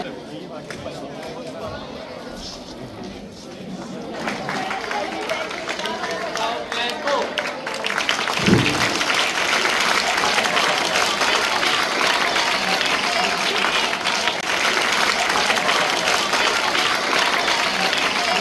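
Audience applause at a school award ceremony honoring a best teacher: a steady wash of crowd clapping that swells and keeps going, with a voice speaking over the start and general hall noise underneath.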